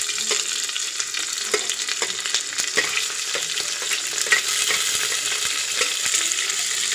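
Sliced onion sautéing with cloves in a hot pan for masala rice, a steady close sizzle and crackle with occasional scrapes and stirs running throughout, no voices.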